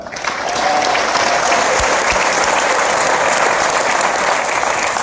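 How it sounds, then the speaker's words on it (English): Large conference audience applauding at Inman Connect 2017, a loud, dense wash of clapping that swells quickly and holds steady throughout. "So a round of applause for them."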